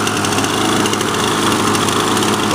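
Small two-stroke engine of a Lawnboy Duraforce lawn mower runs steadily at high speed with a buzzing, rattling drone, loud and close, with no talking.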